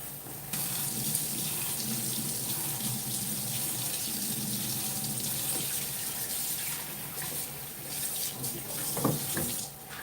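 A kitchen sink tap runs in a steady stream while food is washed under it, a constant close splashing rush with a few clunks and splashes near the end.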